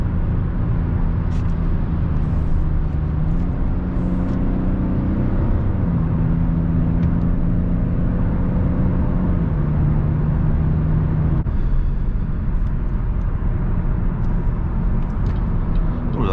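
A 2021 Opel Insignia engine drones steadily up close, its pitch stepping down and settling several times as gears change, with road noise underneath.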